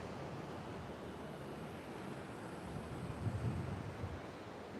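Steady wind and ocean surf on Pacific Beach, a faint continuous rush with a low rumble that swells slightly near the end.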